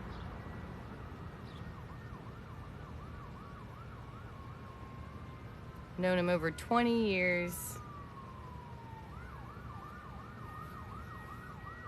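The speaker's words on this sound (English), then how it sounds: "Here come the sirens." A wailing siren rises and falls in the distance behind steady background noise, briefly masked by a louder burst of a voice partway through.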